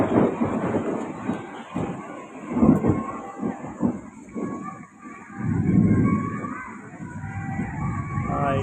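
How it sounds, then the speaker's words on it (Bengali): Heavy thunder booms and rolls in deep surges during a Kalbaishakhi storm, loud and close, with a steady high hiss above it and no clear talking. "কঠিন বজ্রধ্বনি"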